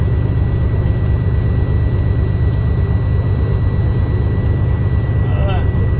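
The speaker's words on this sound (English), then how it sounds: "I'm adding a little bit of throttle so it pumps a little faster" Truck engine in a CDL school yard held at a raised throttle around 1,000 RPM to pump faster, giving a steady low, heavy drone that stays even throughout, with faint whine layered above.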